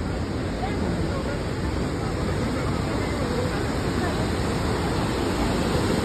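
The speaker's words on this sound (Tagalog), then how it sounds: "Lakas ng current ng tubig" Powerful rushing water at Crescent Falls waterfall, a loud continuous roar of current with wind buffeting the microphone, no pauses.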